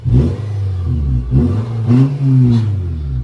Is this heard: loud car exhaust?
yes